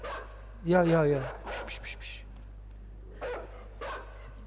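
Guards' dogs in the video game Inside bark and yip in a sharp, tonal burst followed by softer scattered barks, with a player talking quietly and hushing in between.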